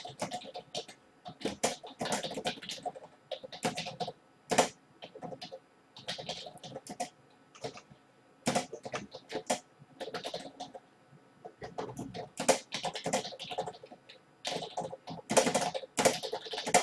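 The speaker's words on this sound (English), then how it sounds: "Now I'm also going to type a description for him." Computer keyboard typing in irregular bursts of fast, close keystrokes separated by short pauses, moderately quiet with no voices.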